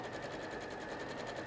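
A Juki sewing machine stitches steadily with a fast, even, buzzing needle rhythm, close and fairly quiet, with no talking over it.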